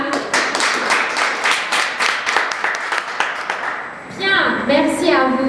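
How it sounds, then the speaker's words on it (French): Brisk applause from a crowd at a festival panel session, with talking over it, fading into a voice as the clapping dies down. "Applaudissements tellement fort."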